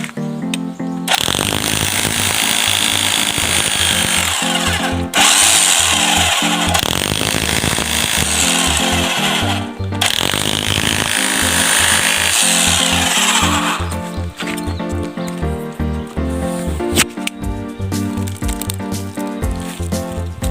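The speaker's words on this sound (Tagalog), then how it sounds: "Ayan, ah, napakabilis butasan. Hindi na mahirapan." Rotary hammer drill boring holes, a loud continuous grinding roar that runs steadily for long stretches with brief pauses between bursts, close and dominant with no talk over it.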